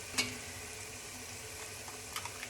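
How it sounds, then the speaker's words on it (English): Three cracked eggs fry in a hot pan with a little sesame oil for a homemade hibachi meal, giving a steady close sizzle with a couple of faint clicks and no talk. "So now we're gonna fry 3 eggs and scramble them."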